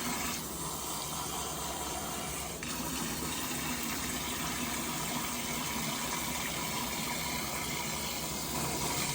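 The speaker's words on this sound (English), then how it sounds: "I fill it up with water, kind of mix it around with my hand" Water rushes steadily into a container at close range, a loud, continuous gushing fill with a slight shift partway through, as it is swirled and mixed by hand. No voices.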